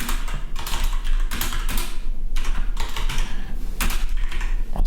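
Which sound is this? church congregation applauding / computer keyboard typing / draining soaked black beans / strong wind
computer keyboard typing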